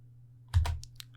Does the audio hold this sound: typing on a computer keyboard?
yes